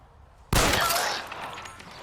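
Gunfire in the L.A. Noire video game erupts suddenly as a loud, close burst of shots, then rings off into a fading tail with no talk over it.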